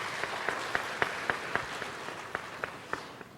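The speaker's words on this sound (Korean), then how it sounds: "우리 박수 한번 하도록 하겠습니다." Applause from a church congregation during a Sunday service, heard as faint, evenly spaced claps in a soft rhythm at some distance.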